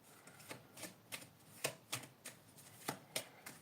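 Angel cards being shuffled and drawn, a run of crisp riffling snaps at a steady rhythm, about ten sharp bursts close by with no talking.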